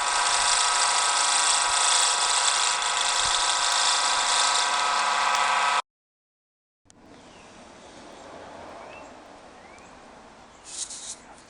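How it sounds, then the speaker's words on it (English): A 10 mm drill bit bores into a pen blank with a loud, steady whir for about six seconds, then cuts off to silence before a quieter mechanical hum and faint rubbing resume. "So I've drilled this first piece."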